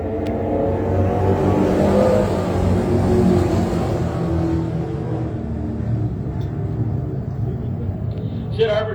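Stock race cars at Can-Am Speedway thunder off a green flag restart, a loud, dense engine rumble building as the field accelerates together, with a race announcer talking over it.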